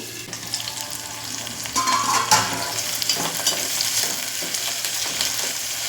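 Three medium tomatoes, cut into small pieces, stirred in a frying pan over a medium flame, with steady sizzling and scraping stir strokes throughout, no voices.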